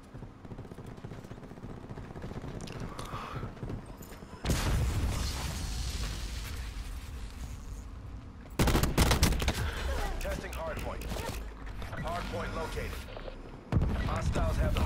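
Rapid automatic gunfire in a Black Ops 4 Hardpoint match, loud bursts of shots that surge in several waves with echoing booms, close and dense, while players chatter over the top.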